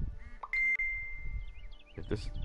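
A phone chimes with a message notification ding, a bright sustained tone followed by another ding, amid low talking and background murmur.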